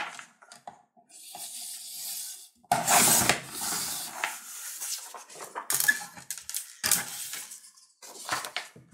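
Scissors cut a design out of T-shirt transfer paper in irregular bursts of close snipping and rustling, separated by short quiet gaps.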